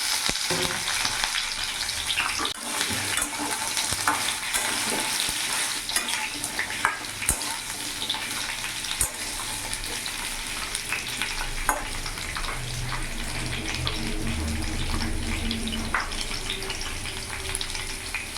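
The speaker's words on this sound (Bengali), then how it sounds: "তেল গরম হয়ে গেছে গোটা জিরে ফোড়ন দিয়ে দিলাম কাঁচা লঙ্কাও ছিঁড়েছি ওটাও দিয়ে দিলাম এর মধ্যে কেটে রাখা আলু" Cumin seeds, torn green chili and cut potatoes fry in hot oil with a loud, dense, continuous sizzle and crackle that runs throughout, with occasional sharper pops.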